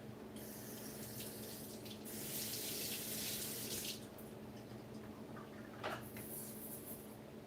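A kitchen tap runs into a sink while cooking, a soft steady flow with a louder gushing burst in the middle, then quieter trickling and a brief splash, no voices.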